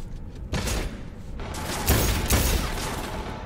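Bursts of gunfire from the video game Cyberpunk 2077 come in several loud, broadband volleys, starting near the beginning and clustering toward the middle, with clattering mechanical noise between them.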